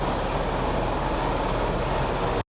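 An R160A-1 subway train runs in the OpenBVE train simulator, giving a loud, steady broadband rumble. The sound cuts off abruptly near the end.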